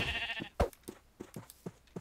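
Sheep bleating in the modded Minecraft pack Age of Engineering, a series of short game bleats and thuds spaced through the moment, fairly close with no talk over them.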